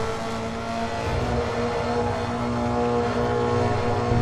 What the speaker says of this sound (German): Ich jag jetzt hier mit über 250 durch den Tunnel durch. Das hört auch so schön.